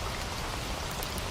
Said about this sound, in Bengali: বৃষ্টির শব্দে ঢেকে যাচ্ছে কথাবার্তা